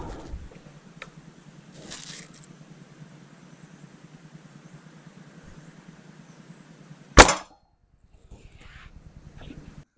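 A .22 Norica Spider GRS air rifle fires a single sharp crack partway through, loud and close, with a quiet low hum and faint handling noises around it.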